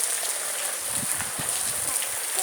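Steady rain falling outdoors in a home backyard, a dense constant hiss with faint low murmurs beneath.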